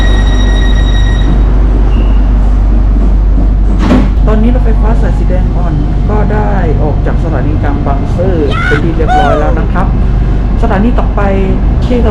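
Bangkok's Light Red Line electric commuter train runs between Bang Sue and Taling Chan, with a loud, constant low rumble throughout, a tonal chime at the start and voices talking over the noise.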